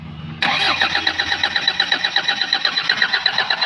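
A Kia Bongo 3 with a fuel injector problem cranks hard, its starter whirring in a quick, even rhythmic chug that starts abruptly and runs on for about three seconds without catching, loud and close.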